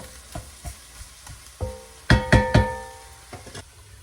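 Roux and vegetables cooking down for a shrimp and potato stew in a pot, a spoon stirring and scraping the bottom in several distinct knocks and scrapes over a soft simmering sizzle, close and fairly quiet with no talking.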